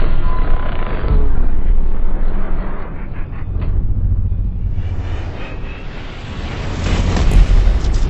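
A .50 caliber rifle round strikes coated steel armor plates, giving a loud, sustained booming rumble with a heavy low-end roar that swells, eases slightly midway, then builds again, with no voices present.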